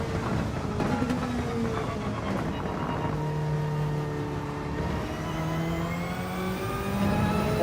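Engine of a Lamborghini in Gran Turismo 7 racing, a steady loud drone with rising and falling rev pitch sweeping up through gear changes, continuous with no talk.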